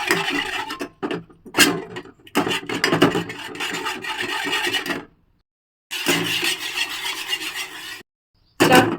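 A spoon scrapes and rasps against a pot while milk mixture is stirred for homemade mishti doi, in irregular bursts of rubbing strokes broken by short silent pauses.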